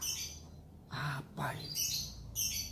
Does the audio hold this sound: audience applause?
no